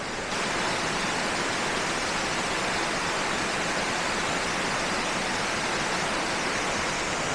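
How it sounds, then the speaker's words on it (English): A waterfall on the Four Waterfalls Trail in South Wales roars in a loud, constant, broadband rush that fills the whole clip with no voices. "here we are, waterfall number 3 on the 4 Waterfalls Trail"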